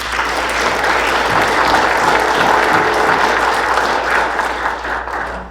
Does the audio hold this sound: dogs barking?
no